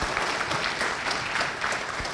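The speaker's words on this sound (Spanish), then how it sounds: "Lo despedimos con un fuerte aplauso, ¿sí?" Sustained applause from an audience thanking an engineer who presented on Böhler tool steels at a SENATI technical talk; dense, steady clapping throughout with no speech over it.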